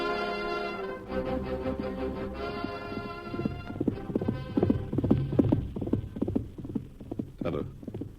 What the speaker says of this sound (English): Looked like Birdwell pushing his horse plenty hard.